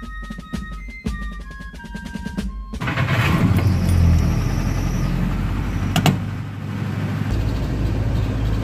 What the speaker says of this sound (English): But let's start the engine.